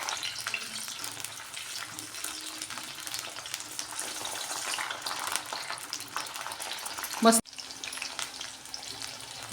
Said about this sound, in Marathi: थोडेसे तेल गरम झालं की त्याच्यामध्ये आपण हे वांगी टाकून थोडीशी फ्राय करून घेऊया